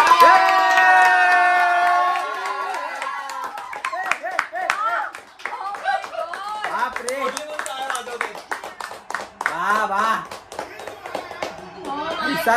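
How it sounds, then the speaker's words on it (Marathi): A home crowd watching the India vs New Zealand Champions Trophy 2025 final on TV bursts into loud clapping and cheering after a dropped catch, with excited shouting voices riding over rapid applause. "सोडली म्हणून टाळ्या वाजवल्या."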